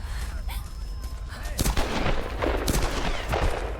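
Gunfire in the video game Tomb Raider 2013, loud dense bursts of rapid shots and impacts layered over game ambience and music, with heavy volleys repeating.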